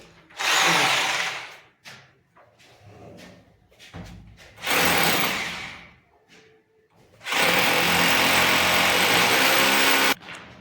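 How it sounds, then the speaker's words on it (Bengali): A power drill bores holes at marked spots in three loud, sustained bursts of a few seconds each, separated by quieter gaps with softer handling noise. "দেখুন এবার ড্রিল করছে, যেখানে মার্কিং করছে ও ড্রিল করছে।"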